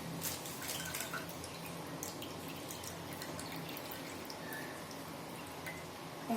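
Water drips and trickles steadily from squeezed milk curd (chhena) for rasgulla in a quiet room, soft splashes and droplets falling continuously at close range.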